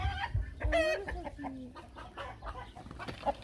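Chickens cluck and squawk agitatedly during a fight among hens, close and lively, with a person's voice talking intermittently over them.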